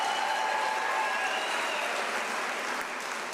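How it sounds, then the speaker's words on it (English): An audience at an academic-year closing ceremony applauds in a steady, even wash of clapping, moderately distant and unbroken, with a faint whistle early on. "Can I request a round of applause?"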